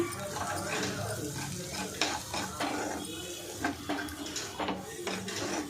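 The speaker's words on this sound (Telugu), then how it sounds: "ఇలా ఫ్రై చేసుకున్నాక ఆ రొయ్యలు ఇందులో వేసేసి కొద్దిసేపు అయితే కుక్ చేయాలండి" Prawns stir-fried in a pan make a soft, low sizzle broken by repeated scraping and clicking of a utensil against the pan, heard close and fairly quiet.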